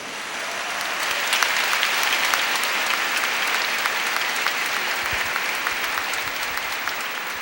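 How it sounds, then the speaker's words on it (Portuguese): A church congregation applauds during a Portuguese-language service after a Bible reading, with dense, sustained clapping that holds steady from start to finish. "Pode aplaudir a palavra."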